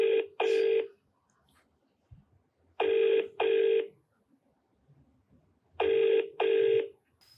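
A phone line rings out during an outgoing call, with paired electronic rings repeating three times at an even pace. Quiet gaps fall between the pairs, and no one speaks.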